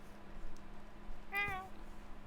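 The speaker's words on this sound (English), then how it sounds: "Why is there a cat up on the roof?" A single cat meow from Minecraft plays once near the middle, a short tonal cry over a steady low background hum, with nothing else standing out.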